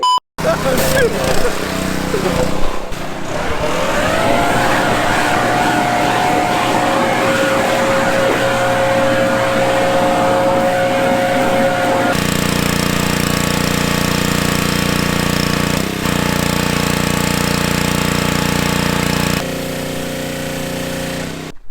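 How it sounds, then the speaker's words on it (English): A loud, steady blower roar runs continuously, with a shift in tone partway through, mixed with engine-like noise and a brief voice early on. "I need the leaf blower though."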